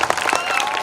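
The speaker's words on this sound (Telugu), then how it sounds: "గట్టిగా చప్పట్లు కొట్టాలి." A church congregation applauds after a drama performance, a dense burst of close clapping from many hands filling the short moment.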